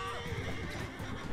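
A horse whinnies in Mount & Blade 2 video game, a brief neigh near the start followed by scattered hoof and battle noise, moderately loud within a busy, rumbling game soundscape.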